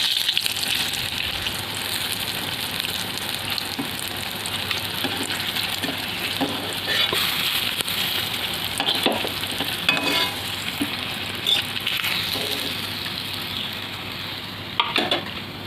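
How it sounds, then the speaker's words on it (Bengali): Rohu fish pieces fry in oil for a fish curry with cabbage, giving a steady, loud sizzle throughout with scattered crackles and stirring noises. "অপর পিসটা উল্টে ভেজে নেব। তো মাছগুলো আমার একদম লাল লাল করে ভাজা হয়ে গেছে।"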